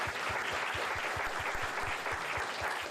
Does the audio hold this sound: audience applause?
yes